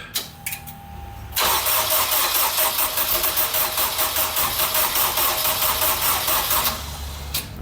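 Toyota MR-S race-car project fitted with a swapped Honda K24 engine, heard starting up and running loud and close, with a steady droning, pulsing engine note that holds for several seconds before easing off near the end.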